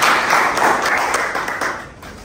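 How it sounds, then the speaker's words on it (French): Audience applause at a street fashion contest in Pointe-Noire, Congo, a dense steady clapping that fills the short stretch and tapers slightly toward the end. "Applaudissez, s'il vous plaît."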